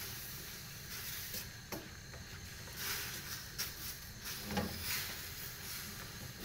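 Apple filling with three-quarters of a cup of sugar boiling in a pot for an apple pie: a continuous broad bubbling hiss with small pops and crackles, close and steady, with no talking.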